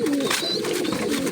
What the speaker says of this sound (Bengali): খুব সুন্দর পেয়ার আছে, দেখুন রামপুরি পেয়ার।